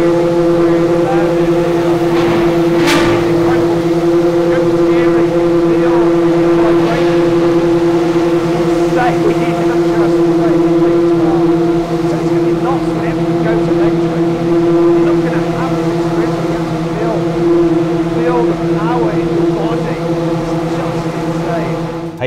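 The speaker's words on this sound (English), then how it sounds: "I heard the unmistakable noise of some Pagani's starting up" Pagani V12 engines starting up and idling in a pit garage at a race circuit, a loud, steady, deep multi-engine drone with a sharp blip near the start.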